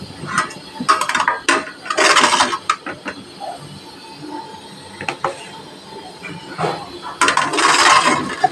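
Softened dates are scraped and spooned from a pan into a bowl, giving several bursts of clattering metal utensil scrapes and clinks, with quieter pauses between them.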